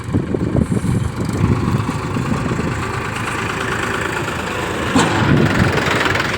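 A tractor engine idles steadily at a farm field plot, a low, continuous rumble holding even throughout with no speech over it.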